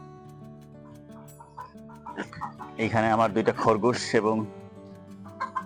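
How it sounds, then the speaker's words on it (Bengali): Chickens cluck on a rainy rooftop, with short calls standing out near the mic. Someone talks over them for much of the stretch. "এই যে মুরগি আছে।"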